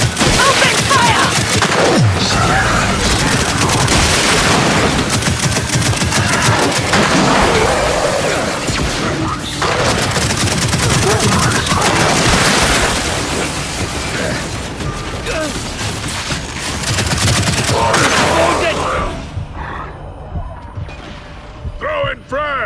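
Gunfire in Gears 5 Hivebusters, a long stretch of loud, dense rattling shots and clanking weapon mechanisms with booms, gradually thinning near the end, and game voices speaking throughout.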